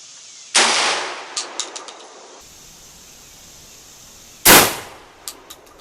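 A shotgun loaded with 00 buckshot fires at a target 20 yards away in a choke test. Two loud, sharp blasts stand well apart, each followed by a few quick echoing cracks and clinks.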